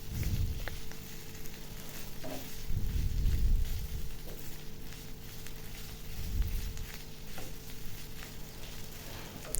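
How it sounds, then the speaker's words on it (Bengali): Tuna fish and boiled potato fry together in a pan for kebabs, producing a close, continuous sizzle with soft low rumbles and occasional light ticks as the mixture is moved around. "এখন আলু দিয়ে ভালো করে মাছটা আমি ভেজে নিব"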